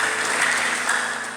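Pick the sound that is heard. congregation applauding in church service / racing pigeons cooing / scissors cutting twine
congregation applauding in church service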